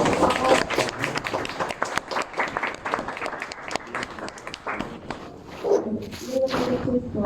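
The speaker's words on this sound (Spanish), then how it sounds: "Aplausos, por favor." An audience applauds at a Día Internacional de la Mujer Trabajadora conference, a dense steady patter of many hands that is loud and continuous, with voices mixed in.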